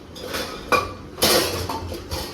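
A metal cooking pot clatters against other dishes in a home kitchen as Maggi noodles are about to be made, with two sharp clanks standing out over a steady low rumble.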